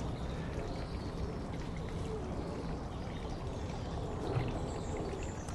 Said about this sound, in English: And so I just turned it into a waterfall.